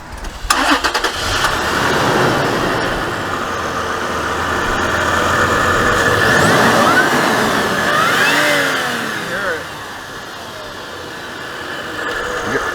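A supercharged 4.0-litre Toyota 4Runner TRD engine cranks, fires and revs, loud and close, with rising and falling revs over several seconds, the supercharger's whine audible as the engine climbs.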